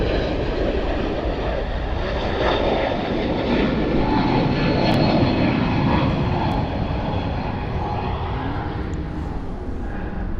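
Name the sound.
aircraft landing on runway 34 left at Sydney Airport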